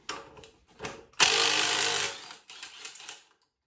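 Impact tool loosening the crankshaft pulley bolt on a Classic Mini 1275 A+ engine during a rebuild, short ratcheting bursts then a loud sustained hammering rattle up close, followed by a quieter burst.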